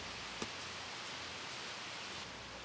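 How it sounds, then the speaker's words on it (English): Steady, hushed rain shower falling outside a mansion, a continuous soft wash of noise with one faint tap near the start and no voices. "As I hauled equipment into the mansion, it began to rain outside."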